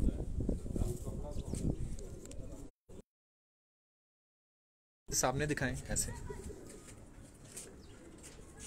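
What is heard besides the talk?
pigeons cooing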